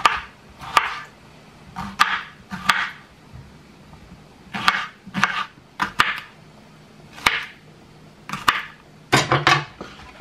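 A knife chopping vegetables into quarters on a cutting board while preparing spicy red salsa, a dozen or so close, crisp knocks in an irregular rhythm with short pauses between groups.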